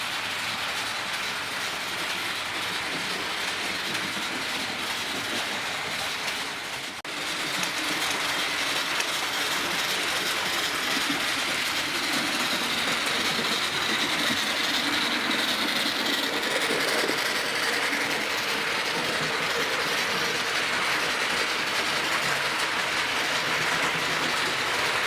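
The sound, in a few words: model locomotive sound decoder train sounds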